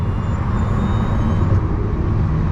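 Porsche 918 Spyder cruising in electric mode, a steady low whirring drive hum with road and tire rumble, continuous and fairly loud from inside the car, with no talking.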